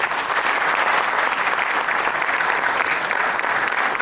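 Audience applause at a school annual day, a dense, steady wash of many hands clapping for the full stretch, loud and continuous with no pause.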